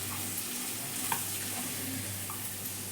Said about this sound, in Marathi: लाल मसाला आणि हा तिखट मसाला चांगला असा हलवून घेऊ त्याला